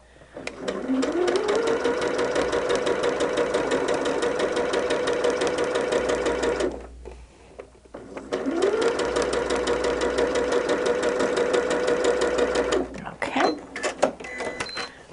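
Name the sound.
sewing machine stitching quilt borders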